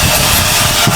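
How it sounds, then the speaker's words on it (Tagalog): Loud, continuous grinding rasp of a power sander working on a wooden boat, close and steady with a low rumbling undertone. "sinisimula na ng Kuya Bingo ang tawag diyan, sander."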